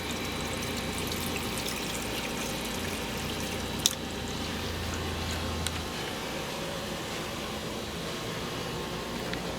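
Water runs steadily from a fresh-water tap aboard a 1998 Doral 300 SC boat in a continuous hiss, with a couple of faint clicks.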